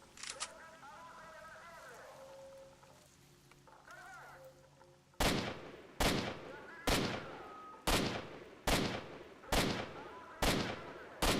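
Video game gunfire cracks out in a regular series of about eight loud, sharp shots spaced roughly a second apart, each with a short decaying tail, following a quieter stretch of game sounds and faint voices.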